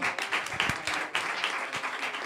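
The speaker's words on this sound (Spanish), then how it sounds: "Un aplauso a Blanca, por favor." Studio audience applauding during a Spanish TV game show, a short burst of moderately loud clapping with scattered individual claps standing out.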